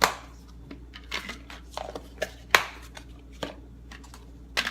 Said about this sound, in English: I just take the lid, snap it on each one